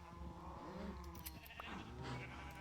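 Sheep in the Minecraft video game bleat in a short, close, wavering cry that rises and falls over about two and a half seconds, with no talk over it.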